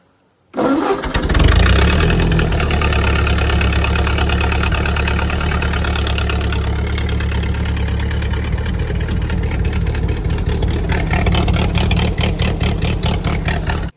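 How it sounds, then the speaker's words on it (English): A Ford 8N tractor engine, set with choke out, half throttle and clutch in, cranks briefly and catches almost at once, then settles into a loud, steady idle that runs close and unbroken to the end. "it's an extremely easy starting tractor regardless what the weather is"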